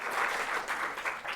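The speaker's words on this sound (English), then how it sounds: "Yes, she deserves a big round of applause." A brief burst of audience applause at an evening speaker event, steady pattering claps from a crowd, moderately loud throughout the short moment.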